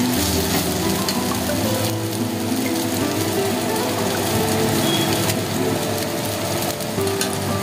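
Homemade noodles cooking in a pan with masala, a dense continuous sizzle and frying crackle at close range, with stirring underneath and no break.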